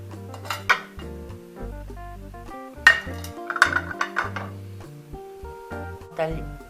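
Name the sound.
transparent glass plates and cutlery clinking while table is set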